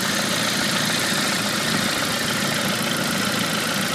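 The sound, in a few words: Saab 9-5 2.3 turbo engine idling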